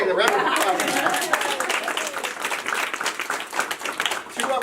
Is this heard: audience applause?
yes